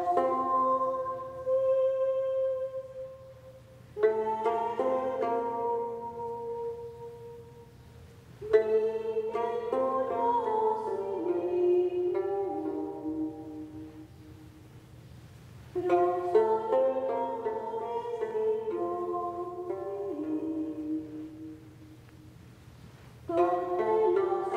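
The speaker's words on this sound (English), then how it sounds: "a Roman piece of music from the first century" Modern interpretation of first-century ancient Roman music, a soft melodic instrument playing phrases separated by short pauses, quiet and intimate with no voices.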